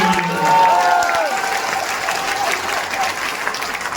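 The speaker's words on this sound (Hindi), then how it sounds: "आप तालियां बजा सकते हैं अगर बजाना चाहें।" Loud, dense applause from the crowd at an all-India mushaira and kavi sammelan poetry gathering, sustained clapping with a voice speaking briefly over the start.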